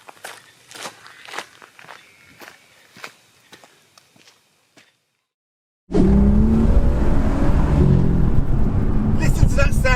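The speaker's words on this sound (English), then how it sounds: "as you let off, you hear it's like a little burble at the high end of the rev range" A BMW M2 engine bursts in loud and close after a few seconds of scattered light thumps and near-silence, a rough, rumbling roar that keeps going and burbles as the throttle is lifted between gears.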